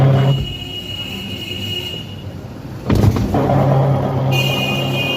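A noisy Samsung semi-automatic washing machine with a faulty gearbox runs with a loud, continuous mechanical rumble and grinding. A whining tone and a sudden clattering surge come partway through.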